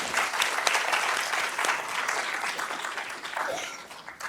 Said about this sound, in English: Can we give her a round of applause for that, too?